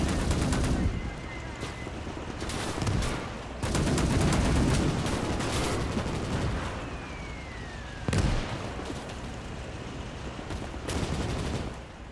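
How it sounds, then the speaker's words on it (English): An anti-aircraft gun keeps firing in the Gates of Hell battle game during a Cold War Marine Corps beach landing. The rapid, loud bursts repeat over and over, mixed with distant battle noise and a little speech. "AA still working for full effect."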